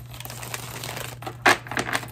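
Papery crinkling and crisp riffling bursts of tarot cards being shuffled, with a louder flurry midway, over a steady low hum.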